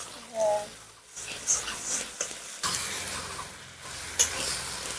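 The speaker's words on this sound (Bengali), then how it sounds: "এবার রসুন বাটা সঙ্গে আদা বাটা এটা হালকা ভেজে নেব।" Ground garlic and ginger paste fries lightly in a pan with a soft, steady sizzle, broken by a few stirring scrapes and clicks, while a voice talks at moments.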